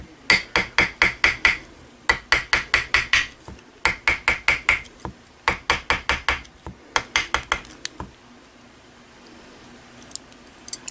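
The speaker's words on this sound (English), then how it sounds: "Now to harden the wire, you want to hit it directly like this." A hammer strikes wire wrapped on a ring mandrel to harden it, landing in quick bursts of four to six sharp, close metallic taps separated by short pauses, then falling quiet near the end.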